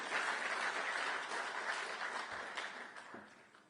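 Conference audience applause in Jerusalem, a dense burst of clapping that fades gradually over a few seconds, fairly distant and soft.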